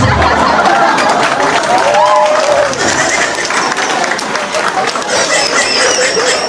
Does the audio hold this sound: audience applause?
yes